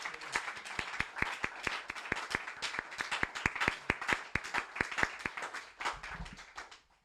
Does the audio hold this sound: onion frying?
no